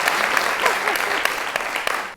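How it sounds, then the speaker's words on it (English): An audience at a women-in-leadership event applauds a participant: a full, continuous burst of clapping for about two seconds with a few louder claps on top, then an abrupt stop. "Give her a clap."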